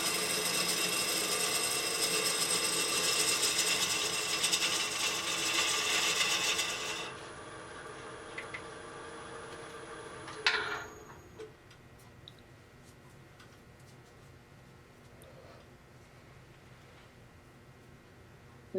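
A lathe gouge cuts end-grain aromatic cedar on a bowl, giving a steady broadband hiss for several seconds before it drops to a quieter whir, with a few faint ticks afterward.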